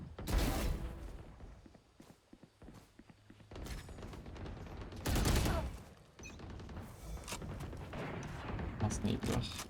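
Sniper gunfire in a video game, sharp loud cracks standing out from game noise and scattered smaller shots, with someone talking in French over parts of it.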